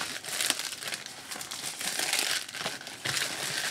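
Plastic wrapping is pulled and crinkled off a DJI Osmo Mobile 3 smartphone gimbal box during unboxing, with continuous close crackling in uneven bursts.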